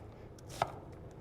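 Several quiet knife strokes on a cutting board while food is cut into lines with quarter turns, with one sharper chop standing out near the middle and fainter taps around it, no voices.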